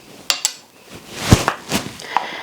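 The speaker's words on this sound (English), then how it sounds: "I'm tapping them against the side of the pot to make sure they're level" Metal measuring spoons of custard powder tapped against the side of a cooking pot, giving about five sharp, bright clinks at irregular intervals, fairly close, with no talking.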